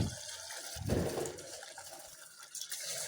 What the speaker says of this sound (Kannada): ಎರಡು ಕಪ್ಪಷ್ಟು ರೈಸ್ ಹಾಕ್ತಾಯಿದ್ದೀನಿ ಈಗ